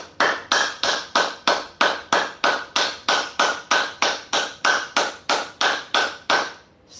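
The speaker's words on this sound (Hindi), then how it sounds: "अब हाथों में दूरी रखिए थोड़ी और पुनः ताली बजाएं।" Hands clap in a fast, steady rhythm during a live exercise session, with roughly twenty crisp, evenly spaced claps close by and no talking.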